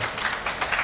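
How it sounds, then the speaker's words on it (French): Audience applauding a tribute at a prince's 80th birthday celebration, a brief burst of dense clapping from a room of people. "Est-ce qu'on peut applaudir pour ce vibrant hommage?"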